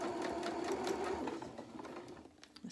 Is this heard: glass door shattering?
no